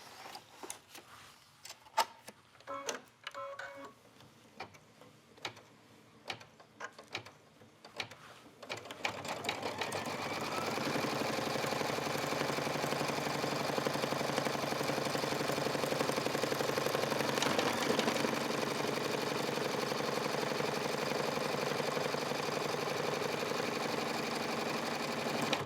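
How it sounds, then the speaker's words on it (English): An embroidery machine stitching a leather bag, first a few sparse ticks and short bursts of movement, then a steady, fast mechanical whir running continuously for the rest of the time, fairly close. "Back in the embroidery machine."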